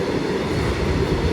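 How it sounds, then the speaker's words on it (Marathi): A long freight train with many wagons rolls past close by, a continuous dense rumble and rattle of wheels on track with no break. "आता तुम्ही व्हिडिओत मोजलं तर जवळजवळ 100-150 डबा भरतील एवढी मोठी रेल्वे"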